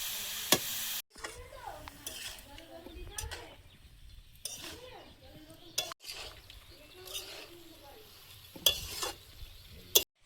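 Cabbage and potato frying in spice paste are stirred in a pan, soft sizzling broken by scraping strokes and sharp clanks of a utensil against the metal, with a voice speaking in the background.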